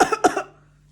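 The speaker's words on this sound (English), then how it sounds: "When people cough and they don't cover their mouth" A person coughs with an open, uncovered mouth, two sharp close coughs followed by a softer third, then quiet.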